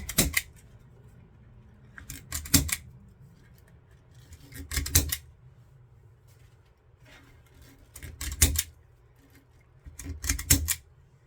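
A zip tie gun fastens ties on a patriotic wreath, giving sharp ratcheting clicks in short bursts of two or three, spaced a couple of seconds apart, close and fairly loud over quiet background.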